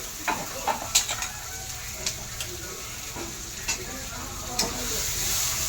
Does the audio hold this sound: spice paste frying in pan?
yes